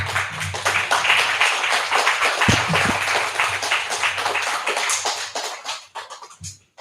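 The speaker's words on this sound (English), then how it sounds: "Give her another round of applause, please." Applause from a church congregation, a dense patter of clapping that fills most of the stretch before thinning into a few scattered claps near the end.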